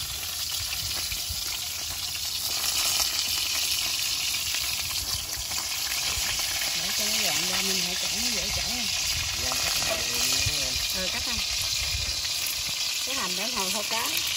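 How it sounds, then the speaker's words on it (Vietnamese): Fish fry in hot oil in a pan over a fire, giving a steady, close sizzle that runs the whole way through, with someone talking over it. "Cá này mình chiên vàng vàng vừa thôi nó sẽ ngon hơn, rồi nó vàng quá thì nó bị cứng con cá."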